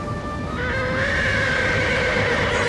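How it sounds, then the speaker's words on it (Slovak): Spooked horses neigh in a film scene, a loud, drawn-out shrill whinny rising and sustained for nearly three seconds over dense background noise. "Splašili sa kone."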